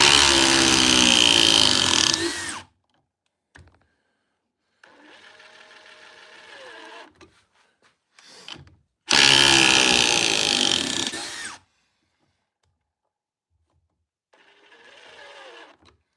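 Two Surge Gen 2 cordless impact drivers run head to head in a power test, each giving a loud, buzzy whir of about two seconds, with quieter mechanical bursts and short pauses between them.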